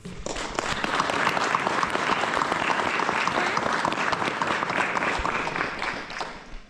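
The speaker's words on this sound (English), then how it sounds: "Can we just take a moment to give them a round of applause of appreciation?" A crowd at a fire academy's first graduation ceremony claps for the graduates, sustained, full applause from many hands lasting several seconds with no speech over it.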